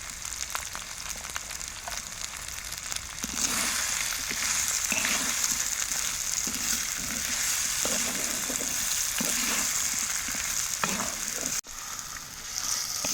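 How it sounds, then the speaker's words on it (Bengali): Chunks of pumpkin and bitter gourd frying with turmeric in a pan, giving a continuous loud sizzle under a run of regular scraping stirs. "এইরকমভাবে নাড়াচাড়া করতে করতে সেদ্ধ হয়ে যাবে কুমড়োটা"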